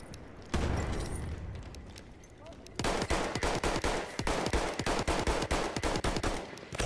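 Rapid bursts of gunfire in the video game Battlefield 1, sparse at first then a dense run of loud, closely spaced shots firing steadily to the end.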